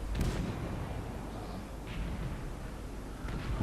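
A Maus super heavy tank's cannon fires at a T-57 Heavy in World of Tanks, a loud booming blast at the start over a dense, rumbling battle din, with another burst building near the end.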